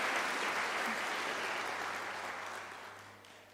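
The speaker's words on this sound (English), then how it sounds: "can we give a round of applause to Professor Sarunga?" A crowd at a university graduation ceremony claps in dense, sustained applause that gradually fades away toward the end.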